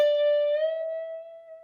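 A single electric guitar note, a D, bent up to an E, ringing clear and sustained on its own, with the pitch sliding up slightly partway through, then fading.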